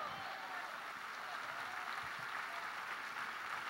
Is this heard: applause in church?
yes